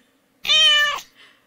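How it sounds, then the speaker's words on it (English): One clear, loud cat meow lasting about half a second, close up and alone, followed by a fainter trailing sound. "And the meow. Of course the meow."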